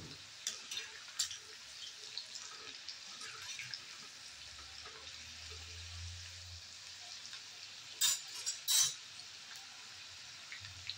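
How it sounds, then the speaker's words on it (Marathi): Okra fries in a pan with a soft, continuous crackling hiss, a few brief louder spatters and clatters rising above it near the end. "अशा प्रकारे मी सर्व भेंडी तळून घेते"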